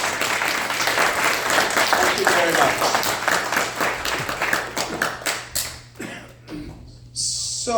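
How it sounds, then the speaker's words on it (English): Applause from the audience at a municipal by-election candidates forum for the volunteers, a dense crowd clapping that gradually thins into scattered claps, with a voice speaking as it fades. "can I have an applause for them?"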